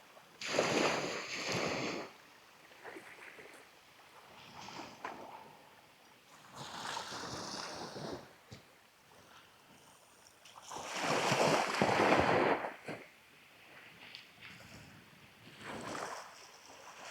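Ocean waves washing onto a deserted beach on the Isle of Harris at sunset, slow swells rising and falling every few seconds, soft and distant with a breath of wind.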